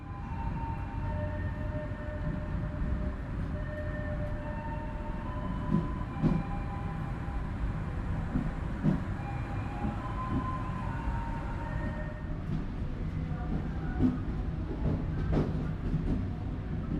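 Interior of the KA Sancaka Utara economy-class passenger train under way: a steady low rumble of wheels and carriage, with faint squeals and occasional clunks over the track, no talking.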